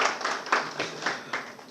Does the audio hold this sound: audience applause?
yes